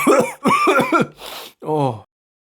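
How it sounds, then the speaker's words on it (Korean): Voiced talk-like bursts, then a short breathy, noisy burst and a brief voiced sound, like a throat-clearing cough between utterances, close and fairly loud. "기침해서 못 들었어."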